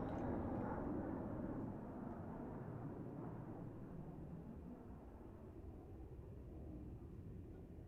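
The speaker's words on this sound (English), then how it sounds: "We have two aircraft now closing in from left and right" Jet aircraft from an aerobatic display team in a Roblox flight game roar past together, a steady loud low rumble that slowly eases off.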